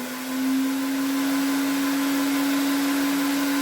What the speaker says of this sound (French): Alors, je vais la mettre en route.